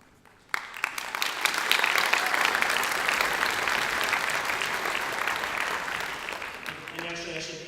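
A high school orchestra concert audience breaks into sustained applause after a sudden start, holding steady for several seconds before fading as a few instrument notes come in at the end.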